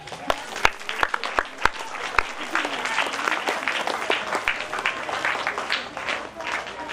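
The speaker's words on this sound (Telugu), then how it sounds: "Claps claps." Audience clapping at a parents' event at IPS school, opening with a few sharp separate claps that quickly swell into sustained dense applause from a large group, with voices mixed underneath.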